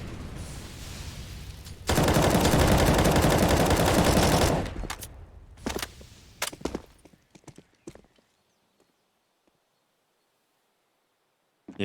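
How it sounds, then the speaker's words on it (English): Desert Eagle pistol shots in a Counter-Strike match on the Inferno map: a loud dense burst of noise, then several sharp separate cracks at uneven gaps that thin out into near silence. "It's Norbert with a deagle that has come out with a kill."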